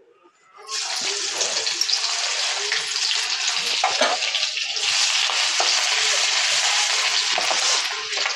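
Ginger garlic paste hits a hot pan with a sudden loud sizzle that holds steady and bright, crackling continuously without any talk.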